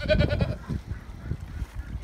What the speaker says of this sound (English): And we got one of the mama goats right there.